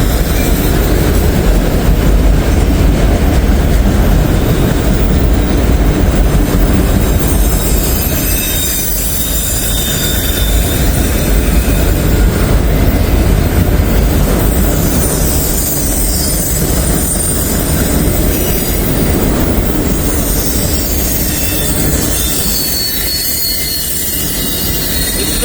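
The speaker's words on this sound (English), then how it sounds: "A pretty good train." A long freight train rolls past up close, a loud continuous rumble of railcars with rhythmic wheel clatter and high squealing wheels throughout, no voices.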